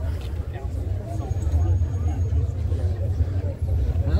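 At a supercar gathering, a car pulls away with a low, rumbling engine drone that holds steady at close range, while someone talks over it.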